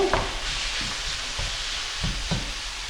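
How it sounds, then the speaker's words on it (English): Steady broadband sizzling of minced meat frying in a pan, with a few soft scraping stirs and clicks on top, close and continuous. "Now all you're gonna hear is the sizzling."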